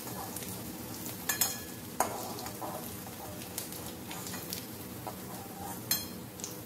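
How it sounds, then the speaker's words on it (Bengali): Potatoes frying in oil in a pan give a soft, steady sizzle with a few light clinks and scrapes from stirring, quiet and close, with no voices. "খুব ভালো করে আলুটাকে ভেজে নিতে হবে"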